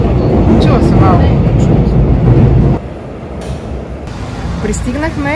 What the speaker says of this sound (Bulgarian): Сега сме в метрото.